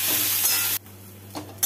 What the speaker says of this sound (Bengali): সবগুলোকে ভালো করে ভেজে নেব।